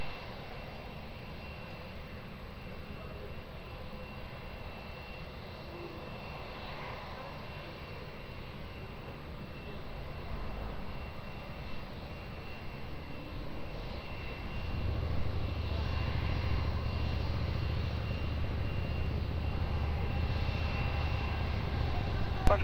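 A jet airliner's engines spool up for a runway 20 takeoff at Lisbon Airport, heard from a distance as a low, building roar that swells and holds steady over the last third, with faint background ambience.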